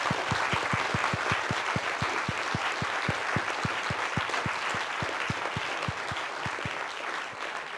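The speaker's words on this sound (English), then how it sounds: "Let's give a round of applause." An audience applauds after a history lecture on Franz Ferdinand's assassination, with steady, sustained clapping that is fairly distant in the hall. One louder, nearby pair of hands beats a regular rhythm through it, and the sound fades slightly toward the end.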